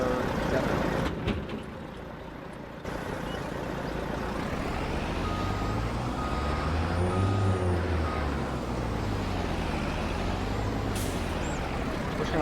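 A truck pulls over and parks on a roadside in Farming Simulator 22, with engine rumble shifting in pitch as it slows, a hiss of air brakes and a faint high tone near the end.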